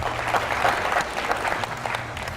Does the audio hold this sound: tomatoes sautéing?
no